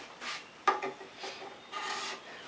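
A card scraper rasps across a wooden stool seat being carved out by hand, three or four close, dry strokes in an uneven rhythm, one starting with a sharp scrape.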